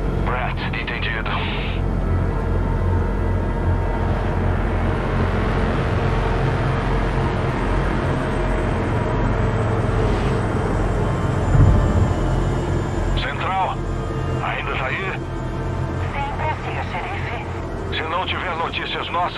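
An aircraft in Far Cry 5 coming in to land, its engine droning steadily and close for the whole stretch while voices talk over it, with a brief thump near the middle.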